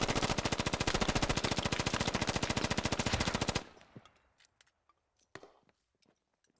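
Sustained automatic gunfire in the video game Squad, a loud rapid burst of evenly spaced shots lasting several seconds, then cutting off to near silence with a few scattered distant clicks and thuds.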